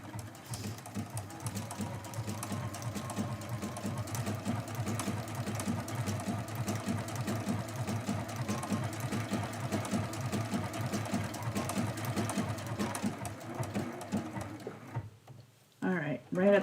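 A sewing machine stitching a quilt at a slow, even pace, a steady close mechanical whir lasting about fourteen seconds, then stopping, followed by brief handling sounds.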